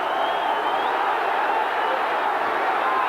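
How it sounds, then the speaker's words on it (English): Ringside crowd at the 1989 Roberto Duran versus Iran Barkley boxing match roars in a dense, steady wall of cheering and shouting that stays loud and unbroken throughout. "Crowd going crazy."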